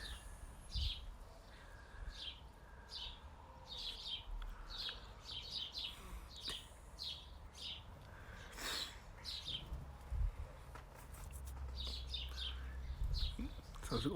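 Faint birds chirp repeatedly in quick, scattered bursts against a quiet outdoor background, with a few low rumbles underneath.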